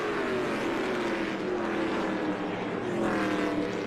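Stock race cars in an ARCA Menards Series race thrash through turns 3 and 4, engines holding a loud, steady high-pitched roar with pitch sweeping as they pass.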